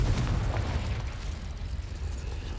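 A Confringo blasting-spell explosion in a video game, heard as a deep, rumbling boom that opens loudly and settles into a sustained low roar for a couple of seconds, with no talk.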